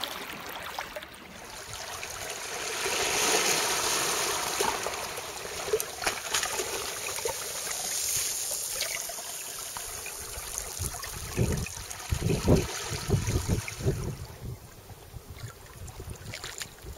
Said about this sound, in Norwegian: Å høre på bølgene.